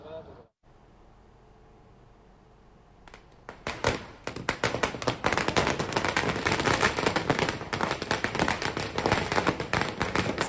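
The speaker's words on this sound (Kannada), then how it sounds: "ಪಟಾಕಿಯನ್ನ ಸಿಡಿಸಿ ಸಿಹಿಯನ್ನ ಹಂಚಿದ್ದಾರೆ." Firecrackers burst at a farmers' celebration in Byramangala, a rapid, dense crackling string of sharp pops that starts after a few quiet seconds with low murmuring and then continues loudly and without pause to the end.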